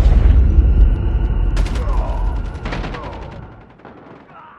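Shooter video game gunfire: heavy booming shots and bursts of automatic fire ring out close, with mechanical clicks and echoing tails fading toward the end.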